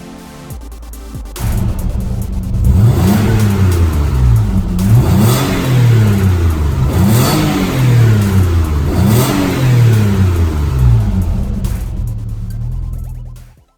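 An Alfa Romeo 156 car drives along with its engine revving up and down in repeated acceleration sweeps through the gears, loud and close, before easing off at the end.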